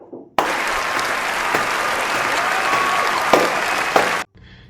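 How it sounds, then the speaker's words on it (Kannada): An audience at a live comedy show bursts into loud, sustained clapping that starts abruptly, holds evenly for about four seconds, then cuts off. "ಅಣ್ಣನಿಗೆ ಚಪ್ಪಾಳೆ ಹೊಡಿರೋ."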